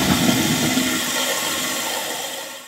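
A household toilet flushes with a loud, continuous rush of water that holds steady for the whole stretch and tapers slightly at the end, with no voices present.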